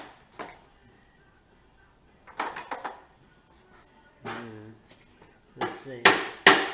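Metal hammer blows knocking a stubborn part out during a 1972 Honda CT70 rebuild, several sharp clustered strikes with pauses between, the final hits loudest and close, with faint background between bursts.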